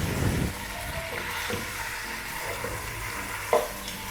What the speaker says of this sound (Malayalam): നമ്മുടെ ഉള്ളി നന്നായി ഫ്രൈ ആയി വന്നിട്ടുണ്ട്. ഇനി അതിലേക്ക് മട്ടൻ ഇട്ട് കൊടുക്കാം.